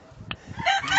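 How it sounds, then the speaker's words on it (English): Backyard laying hens let out short, close clucks and a brief rising squawk within a single second. "they're 2 hardy little chickens"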